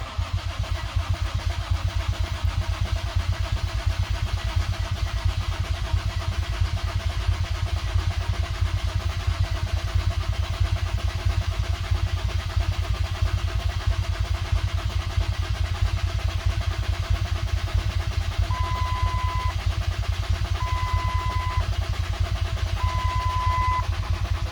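A car engine cranks and fires up after its fuel pump relay is put back in, then settles into a steady, loud running drone close by, with a few brief chimes near the end.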